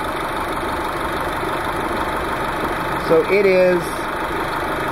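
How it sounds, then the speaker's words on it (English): A car engine idles steadily at about 800 RPM, a constant mid-level hum running throughout, while someone talks briefly over it near the middle. "the car is idling at about 800 RPMs right now"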